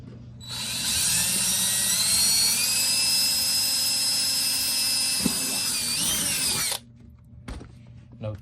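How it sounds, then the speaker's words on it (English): A drill deburring screw holes in an X-Wing helmet spins up and runs in one steady high whine for about six seconds, close and loud, then stops, followed by a couple of faint knocks. "I like to deburr the holes, front and back."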